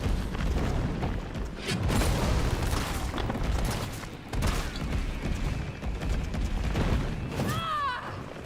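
Grenade launcher mine rounds going off in the Resident Evil 3 Remake video game: a loud, dense stretch of booming blasts and crackling impacts that rolls on without a break, with a brief warbling whine near the end.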